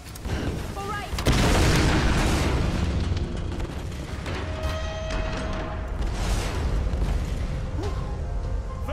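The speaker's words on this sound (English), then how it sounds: "Explosions, it's ridiculous." Explosions boom in the Tomb Raider video game, a heavy blast followed by rumbling debris, crumbling and mechanical clatter, with brief game voices heard amid the noise.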